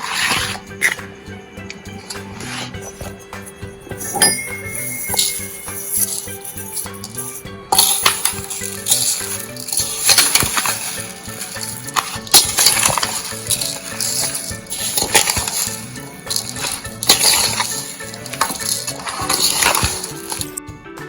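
Spiced lemon pickle gets mixed by hand, producing irregular scraping, clinking and crunching bursts that come and go over about twenty seconds, close and fairly loud.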